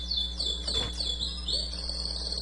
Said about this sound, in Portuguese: Desculpe se vocês estiverem ouvindo passarinho cantando